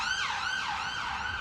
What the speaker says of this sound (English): Near empty streets echo to the wail of sirens.